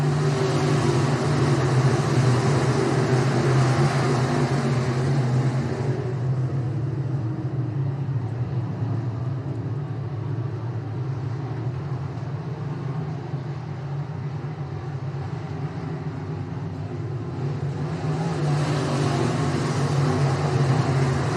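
Race cars run down the back straightaway of a dirt oval during a feature, a continuous engine roar that swells at the start, sinks as the field pulls away, then builds again near the end.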